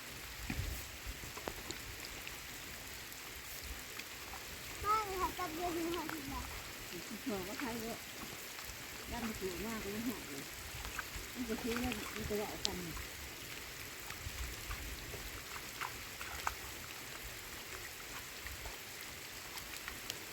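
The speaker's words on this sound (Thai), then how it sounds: "ฝนตกลินเนาะ" Steady rainfall patters and hisses continuously over a rice field during transplanting, with faint voices talking quietly in the background partway through.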